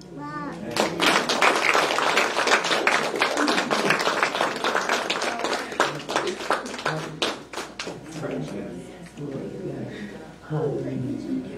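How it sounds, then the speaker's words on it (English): A church congregation claps in praise, dense rhythmic hand claps spread through the room and carrying on for several seconds, with voices talking and calling out underneath. "Y'all give the Lord a hand clap of praise, amen."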